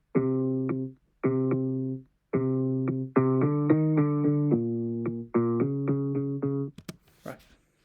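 A short music loop plays back in Logic, with bright, buzzy synth-like chords in choppy stabs that speed into a denser rhythm before fading into a few scattered clicks, no voices present.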